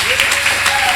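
A church congregation applauding and acclaiming, a loud, dense burst of clapping and cheering heard briefly and up close, with a raised voice ringing through it.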